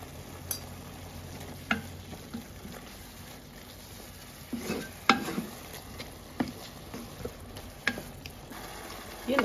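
Food frying with black pepper and hot chili pepper sizzles softly in a pan while a utensil stirs it, scraping and clacking in irregular strokes.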